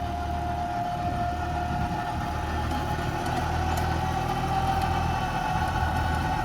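A New Holland tractor fitted with a rotavator idles steadily and evenly, a constant low rumble with a faint whine over it.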